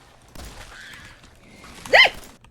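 A dog in the video game Fallout 4 lets out one sharp, loud bark near the end, after a stretch of quiet in-game ambience.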